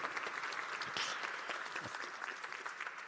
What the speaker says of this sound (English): Big round of applause one more time.